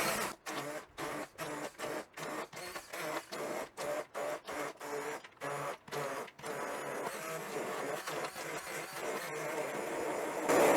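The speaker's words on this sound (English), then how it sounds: "it's the frappe stick." Frappe stick immersion blender pulsing through a homemade dog meatball mix with cranberries, a series of short loud bursts with brief gaps, then one longer continuous run near the end.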